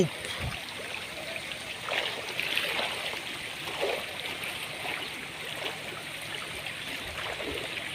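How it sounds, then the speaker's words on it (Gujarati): Floodwater rushing along a market street after heavy rain, a steady close wash of flowing water with brief splashes. "એફ લાઇનમાં પાણી જુઓ"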